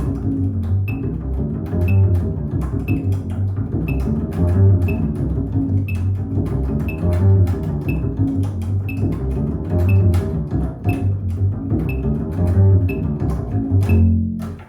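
Upright bass plucked with two fingers in fast, even triplets, deep woody notes running continuously with a soft clicking tick on each beat, close and alone.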